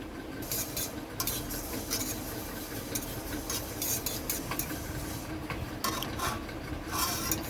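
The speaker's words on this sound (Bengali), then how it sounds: "প্রথমে আমি তিলটাকে ভেজে নেব শুকনো কড়াইতে" Sesame seeds dry-roasting in a hot dry wok, stirred continuously with a utensil that rasps and scrapes in a close, steady rhythm, with no talk.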